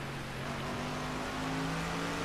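A car engine drones steadily in a racing video game, a continuous mid-level hum with a faint rising pitch and no talk over it.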